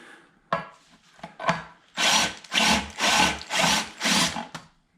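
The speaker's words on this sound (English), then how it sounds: "So what we did is actually drill it out." A drill whirs in five short bursts of roughly equal length, separated by brief pauses, after a few quieter knocks and scrapes at the start, drilling out an aluminum pin in a Mercedes W201 front suspension.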